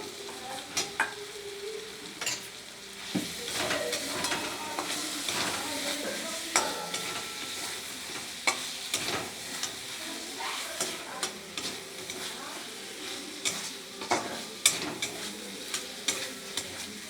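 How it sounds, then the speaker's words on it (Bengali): Fried potatoes stirred with spice paste in a pan while cooking a spicy fish curry: a continuous sizzle with repeated spatula scrapes and knocks against the pan, close and moderately quiet, with no talking. "আলুটা দিয়ে একটু মশলাটাকে আর একটু কষিয়ে নেবো।"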